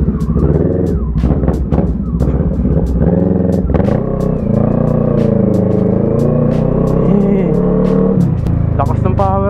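Kawasaki Z650 motorcycle, a 650 cc engine, running loud and close with a steady droning idle and rev, sharp clicks and ticks over the top.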